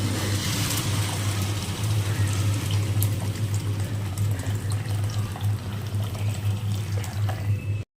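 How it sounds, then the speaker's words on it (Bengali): Hot water poured into cooking masala for atta Maggi noodles, a loud, close, steady rushing splash with bubbling that runs unbroken for several seconds and cuts off abruptly at the end. "এখন দিয়ে দেবো গরম জল"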